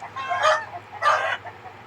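Chickens on a farm cluck while a rooster gives two loud, close crowing calls about half a second apart, with softer clucks continuing between and after them.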